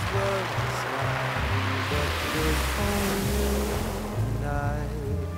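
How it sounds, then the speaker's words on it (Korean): Sea waves wash steadily over a pebble beach at sunset, a continuous loud surf rush with music playing over it throughout. "하얀 백사장과는 또 다른 매력의 몽돌 해수욕장"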